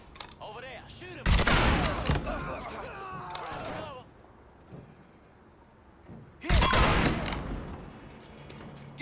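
Gunfire in the Mafia 3 video game: two loud, dense bursts of shots, around 1.3 to 4 seconds and again from 6.5 seconds, with shouted voices and quieter action sounds in between.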